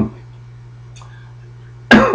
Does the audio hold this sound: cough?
yes